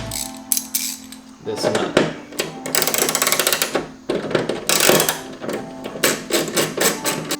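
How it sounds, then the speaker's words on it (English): A 10mm socket ratchet unscrews a nut on a BMW F30, giving close bursts of rapid metallic clicking with brief pauses between strokes, while a voice speaks briefly. "get your 10mm socket, and you're gonna go ahead and unscrew"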